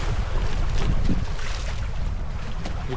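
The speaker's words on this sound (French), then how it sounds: "Changement de plan, le vent est revenu." Wind gusts buffet a sailboat off Brittany, rushing steadily and loudly across the microphone with the wash of water underneath.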